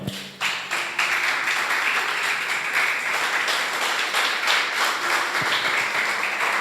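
A church congregation claps and applauds continuously in a dense, even wash that holds steady throughout, with no voices standing out.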